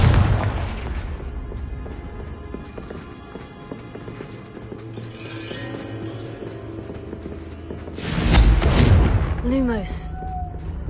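In a Hogwarts game, a Confringo blasting spell erupts late in the scene as a sudden loud, close explosion over a low background rumble of footsteps and movement, then fades into a quieter tail.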